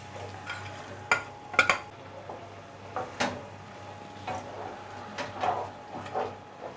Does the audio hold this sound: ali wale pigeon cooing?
no